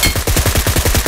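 Rapid automatic gunfire in PUBG Mobile, a loud fast string of evenly spaced shots in a continuous volley lasting about a second.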